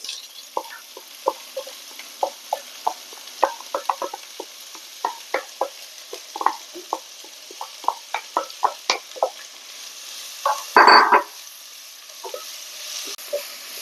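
Chopped onion fries with ginger and garlic in a pan while a spoon stirs it, giving a soft sizzle broken by a steady run of small scraping clicks and one brief louder burst near the end, with no talking.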